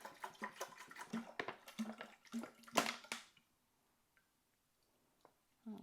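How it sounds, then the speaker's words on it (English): Apple juice poured from bottles into an IGULU F1 brewing machine, an uneven burst of glugging and splashing that stops after about three seconds, followed by quiet with a few faint clicks. "Let's get my juice from the bottles."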